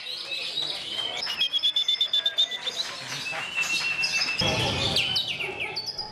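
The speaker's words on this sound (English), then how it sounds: "they were holding auditions for the bird sound competition" Songbirds at an Indonesian bird sound competition sing loudly and close by, with overlapping rapid chirps, trills and whistled phrases layered together, plus a brief burst of busier noise near the end.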